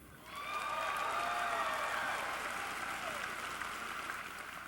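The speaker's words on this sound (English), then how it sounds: "I don't normally solicit a hand for a piano, but you all clap for a motorcycle" An audience applauding for a red piano at a comedy show: clapping swells quickly from silence into a full, sustained ovation, then eases slightly while continuing.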